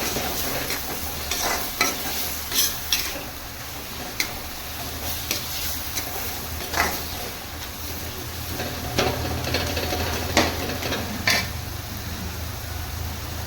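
Spices fry and sizzle steadily in a hot pan for a paneer gravy while a utensil scrapes and taps against it in irregular stirring strokes.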